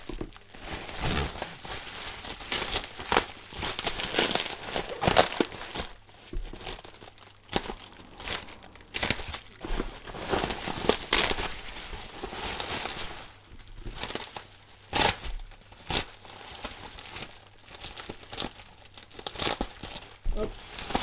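Adhesive tape crackles and crinkles close up in irregular bursts while assembling a Demon KR4 RC crawler kit, with rustling handling noises and brief pauses throughout.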